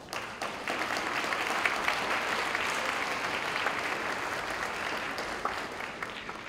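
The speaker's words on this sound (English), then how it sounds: "Mr. Greg Green, please give a round of applause" An audience at a 2019 school graduation ceremony gives sustained applause, a dense, even wash of clapping from a large crowd at moderate distance, with no speech over it.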